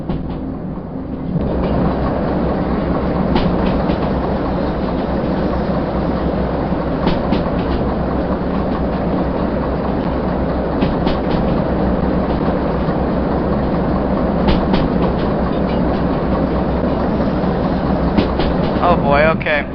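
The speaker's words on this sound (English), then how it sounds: "Those are starting to be a couple of spicy sounds coming from the wheels" A freight train in the Derail Valley simulator takes tight curves too fast, its wheels grinding in a loud continuous rumble broken by sharp metallic clicks and brief squeals.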